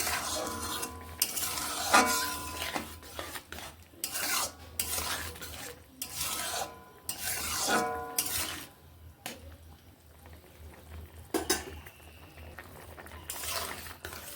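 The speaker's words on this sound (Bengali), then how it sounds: "নুন মিশিয়ে এইভাবে নেড়ে নিচ্ছি" A spoon stirs potato curry with salt in a pan, scraping and clattering in uneven bursts separated by short pauses, close and moderately loud with no talk.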